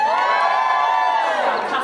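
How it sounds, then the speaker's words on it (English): A big tour audience at the Warner Bros. Studio Tour London roars a loud, sustained cheer with whoops and children's shouts, steady for about two seconds and fading slightly at the end. "please humour me anyway with a massive cheer when I ask, do we have any Harry Potter fans here today?"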